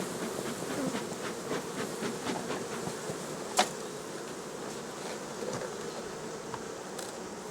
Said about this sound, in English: alright bees, listen, I'm trying not to smash you